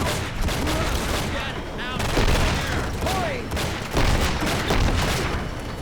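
Gunfire in the video game Enter The Matrix, dense rapid bursts of shots layered with booms and chirping effects, loud and nearly continuous across the stretch.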